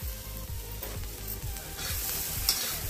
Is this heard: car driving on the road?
no